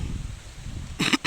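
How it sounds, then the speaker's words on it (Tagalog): A person coughs outdoors under a cloudy sky, two short, close coughs after a moment of low rustling background. "Sorry guys, inubo ako"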